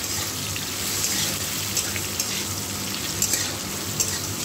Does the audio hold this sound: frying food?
yes